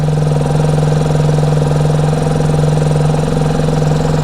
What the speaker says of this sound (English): The noise of the bike has definitely changed. The bike is starting,